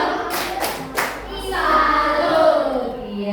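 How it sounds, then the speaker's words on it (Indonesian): A classroom group of students claps in applause, a few sharp separate claps giving way to a sustained ragged patter of many hands, close and lively, with a teacher's voice briefly over it. "Kasih tepuk salut untuk kelompok Elina."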